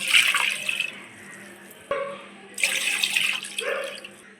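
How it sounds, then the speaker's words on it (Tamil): Three cups of milk poured into a pan for rava gulab jamun, two close pouring bursts of liquid with a short pause between them, loud and near with no talking. "அதே கப்பில் 3 கப் அளவு பால் ஊற்றிக்கலாம்"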